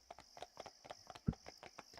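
A ridden horse's hooves clip-clop in a quick, even rhythm of close, distinct strikes, one hit landing heavier than the rest, with no one speaking.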